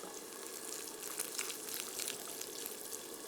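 Cashews, almonds and raisins sizzle steadily in hot butter, a dense, even crackle of frying close by with no voices.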